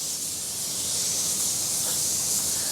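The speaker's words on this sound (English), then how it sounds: "Let's get spraying." Steady, close hiss of a paint spray gun coating MDF, broad and airy, running continuously with no pauses or voices.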